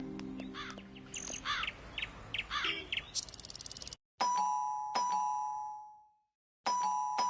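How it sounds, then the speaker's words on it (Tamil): Crows caw repeatedly outside a home, then an electronic doorbell rings a clear ding-dong chime twice that rings out and decays, followed by another chime starting after a brief silence. "அப்பா அந்த நடராஜ் தான் காலிங் பெல் அடிக்கிறான் போல"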